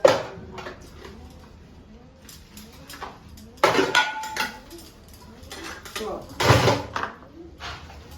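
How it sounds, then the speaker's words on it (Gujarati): Clattering steel utensils and pots knocking and clanking together in bursts, with splashing and scrubbing, under ongoing conversation. "મિત્રો વાસણ તો કરું"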